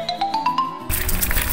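A railroad crossing bell in Nara, Japan rings in quick, regular strikes, then gets swallowed by a burst of rushing, noisy sound.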